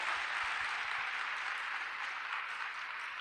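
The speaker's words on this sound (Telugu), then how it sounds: "ఒకసారి చప్పట్లు కొట్టమని మనం చేస్తున్నాం" Audience applause honouring Pramila Silvaraj, a steady wash of many hands clapping at a moderate distance, unbroken for the whole span.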